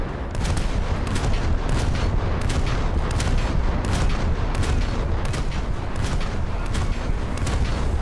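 Rapid naval cannon fire from an Albatros fast attack craft in the War Thunder video game, a loud continuous barrage of regularly spaced booming shots over a dense engine and battle rumble, with no talking.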